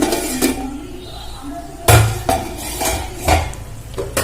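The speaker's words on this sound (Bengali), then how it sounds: "আমি এবারে ঢাকনাটা খুলে দেখে নেব জলটা শুকিয়েছে কিনা" A metal lid comes off a cooking pot of vegetable fry with a sharp clank, followed by a few lighter knocks and clinks close by.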